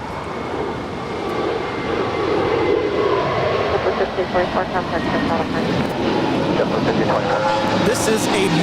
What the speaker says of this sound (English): It's JetBlue Airways Flight 1524. It's a 1-year-old Airbus A321neo.